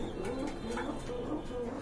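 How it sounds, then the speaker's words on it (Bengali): A pair of racer pigeons cooing close by, soft repeated throaty coos in a low rolling rhythm, with faint voices in the background. "এখন দেখতে পাচ্ছেন এক জোড়া রেসার কবুতর"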